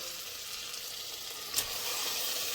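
Tomatoes dropped into ginger garlic paste and spices frying in a pan for mutton curry, a steady hissing sizzle with a brief louder splash as they land partway through.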